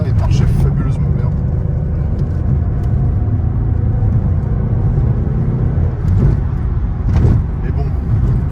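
A Peugeot 406 V6 car with worn rear suspension driving along: a dense, continuous low rumble and road roar from inside the cabin, steady throughout with a few faint knocks.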